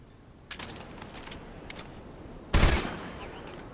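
AK rifle in a video game fires a couple of short sharp bursts, one quick pair early and a louder, heavier blast later, close and punchy over a quiet background.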